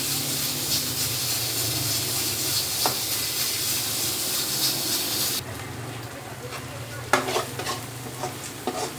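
Ground masala frying and being stirred in a pan for a black chickpea curry, a steady close sizzle with scraping, a quieter stretch midway and a few sharper clinks near the end.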